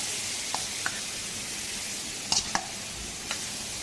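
Fish sizzles in a pan of coconut juice and oil for a Caribbean-style sudado. A steady, moderate frying hiss carries throughout, broken by a few faint clinks and stirring taps, with no voices heard.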